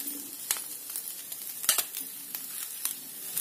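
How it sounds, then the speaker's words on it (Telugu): Bitter gourd and garlic masala frying in a pan, a steady crackling sizzle with sharp stirring scrapes and clicks scattered throughout, close and moderately loud with no voices. "బాగా వేగింది."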